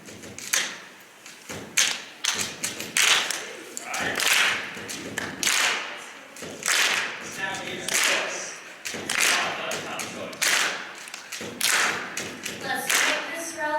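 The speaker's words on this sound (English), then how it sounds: "if you can clap, please" An audience claps along to a hip hop beat, sharp irregular bursts of handclaps and thumps repeating through the stretch, fairly loud and close, with some talk mixed in.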